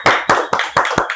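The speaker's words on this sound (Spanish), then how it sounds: "Recibamos con un fuerte aplauso a Ediana Segura." Sharp, near claps come in about five quick bursts across a second, like a small podcast audience applauding to welcome a guest.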